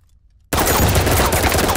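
Gunfire in the video game Firewall Zero Hour: after a brief hush, a loud, sustained rapid-fire burst of shots runs to the end.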